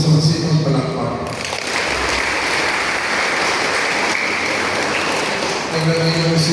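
Dense, steady applause from a crowd at a wedding fills the whole stretch, with faint voices underneath near the start and end.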